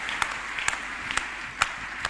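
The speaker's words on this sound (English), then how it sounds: "Let us clap hands for the God of the senior prophet." A church congregation claps at a Sunday testimonies service, the scattered, fairly faint claps landing roughly every half second over a low room murmur.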